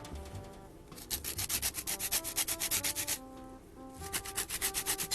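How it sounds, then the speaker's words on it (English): A mini orange's rind is zested over cookie dough, producing quick rhythmic rasping strokes against a grater in two close bursts separated by a brief pause, with no talking. "zest a little bit of orange zest over top of it"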